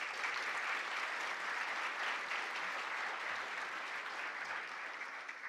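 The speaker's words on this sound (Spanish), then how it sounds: "le pido que les den un fuerte aplauso" Steady applause from an audience at a regional oratory competition, welcoming a jury member from a savings bank; dense, even clapping holds at a constant level throughout with no speech.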